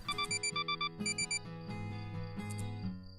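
Electronic beeping from a character in the Asagao Academy visual novel game, a quick series of high bright beeps followed by a warbling synthetic tone, heard alone without voices.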